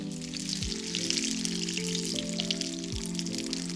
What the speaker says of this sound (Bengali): আমি একটু সুন্দর স্মেল আসার জন্য বাটার দিয়ে করছি